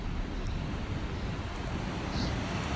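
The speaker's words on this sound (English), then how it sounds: "This is Punch Bowl Falls." Punch Bowl Falls on Eagle Creek, a waterfall heard as a steady, loud broadband rush of falling water that continues without a break, with no voices over it.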